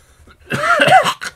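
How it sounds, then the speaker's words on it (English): A single heavy, rasping cough bursts out after a quiet moment, followed by a short second cough. "Oh, that's a big cough."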